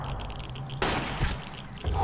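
Gunfire from the survival video game Sunkenland rings out in a few sharp bursts, one volley after a short lull and then more shots close behind, loud and up front with no talking.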